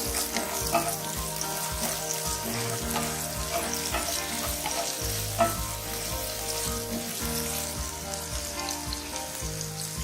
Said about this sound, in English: Roast the green chilies.